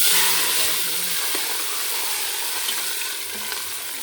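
Spices sizzling and crackling in hot oil for tempering masoor lentils, a steady loud frying hiss with faint stirring clinks, close up and without talk.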